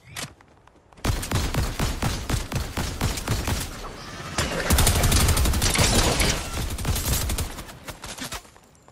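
Fortnite gunfire in a jungle map: dense, rapid bursts of close shots, rattling almost continuously after a brief quiet start, with a heavier sustained stretch midway.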